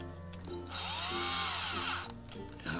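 A power drill drives a screw into a Bowden belt extruder assembly, its motor whine rising and holding steady for about a second and a half, then cutting off, close and fairly loud.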